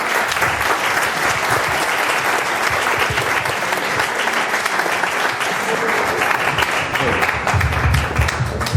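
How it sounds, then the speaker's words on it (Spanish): Strong ovation from a conference audience at a DXN spring event in Spain, loud, continuous clapping from a large crowd lasting the whole stretch with slight crowd murmur underneath. "Pues igualmente os pido una fuerte ovación para el coordinador de marketing de DXN para Europa, Mr. Sean Higgins."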